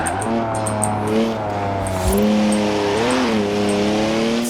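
A BMW 3-litre twin-turbo straight-six revving and accelerating in Forza Horizon 4, a loud near engine tone rising through the gears with a shift partway, ticking game sounds above.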